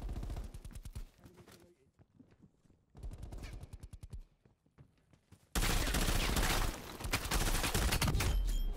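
Black Ops Cold War open beta on a desert map: rapid automatic gunfire rattles in bursts with quiet gaps, then a dense, loud barrage of shots and explosions takes over for the last few seconds.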